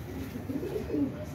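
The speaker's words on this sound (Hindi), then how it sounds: "बहुत बड़ा कबूतर" A large pigeon gives a soft, low, rolling coo close by, a short murmuring burst over steady background noise.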